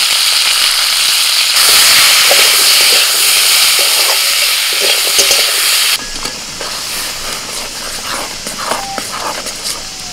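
Vegetable stalks and potatoes fry in a pan with salt and turmeric, a loud, dense sizzle that drops abruptly to a quieter crackle with scattered pops and stirring clinks.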